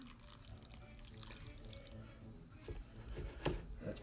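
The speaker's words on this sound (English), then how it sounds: "Let's fill this all the way up with water to where it's like a quarter of the way up the pan." Water runs from a tap into a roasting pan for tomato soup, a quiet, steady splashing trickle that swells and turns gurgly toward the end, heard alone without talk.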